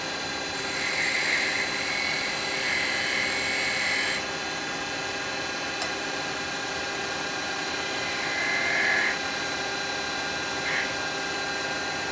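A chisel cleaning the edge of a wooden pop-fit perfume pot on a woodturning lathe, a steady whirring hum with a few brighter scraping passes of the tool against the spinning wood, fairly close and with no talking.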